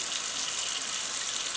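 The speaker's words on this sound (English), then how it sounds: "I'm at the kitchen sink now, and what I'm going to do is I'm going to turn on my water" Kitchen sink tap running steadily, a continuous close hiss of water flowing from the faucet at even loudness with no talk.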